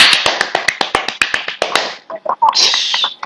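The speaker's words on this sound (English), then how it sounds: "Clap your hands for a moment." Students in an online grammar class clap their hands in a quick scatter of sharp, uneven claps that thin out into a few stray taps, with brief voices murmuring near the end.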